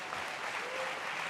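A crowd at a Geneva sports gala keeps up steady, even applause for a singer, a brief continuous wash of clapping with a faint voice beneath.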